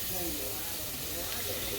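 Steam hisses as liquid is added to a hot pot of homemade beef stew, a loud, steady, broad hiss filling the whole moment, with a voice faintly underneath.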